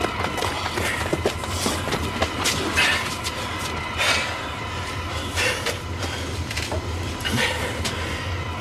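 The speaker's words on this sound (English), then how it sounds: "one train crosses the country" A passenger train rolls past close by, loud and continuous, with rhythmic wheel clatter and occasional metallic squeals over a deep rumble.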